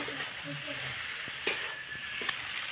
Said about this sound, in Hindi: अब हम इसमें फ्राई किए हुए गोभी और आलू को भी डाल देंगे और अच्छे से चलाएंगे।